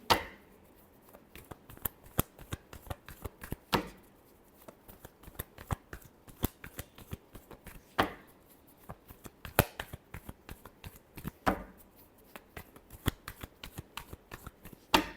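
A deck of tarot cards being shuffled by hand, close and crisp, with repeated bursts of riffling and flicking cards separated by short pauses.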